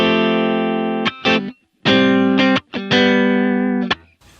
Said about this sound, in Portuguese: Se for uma guitarra com single coil, olha só, aqui eu tenho a opção do single, aí já ia ficar assim o som